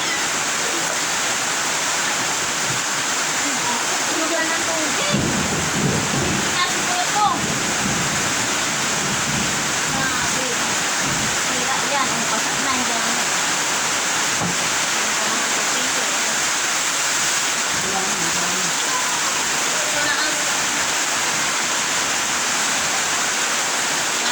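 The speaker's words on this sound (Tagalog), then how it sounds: "Nasok na kami ng tubig." Floodwater rushes steadily and loudly into a house throughout, a continuous roaring flow with faint voices briefly audible beneath it.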